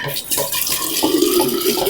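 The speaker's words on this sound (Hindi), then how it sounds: "थोड़ा सा पानी भर लूँ" A kitchen tap runs while water is filled for making halwa, a loud close steady gushing stream that continues evenly throughout.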